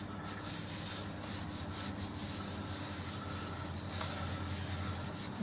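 Steady close rubbing of Yorkshire grit abrasive paste into turned gidgee wood spinning on a lathe, a continuous gritty friction with a low machine hum underneath and no talk.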